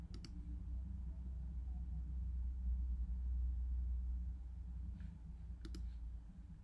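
A computer mouse clicks while a Shopify app is being installed: one short click near the start and a quick double click near the end, both crisp and close over a low, steady room rumble.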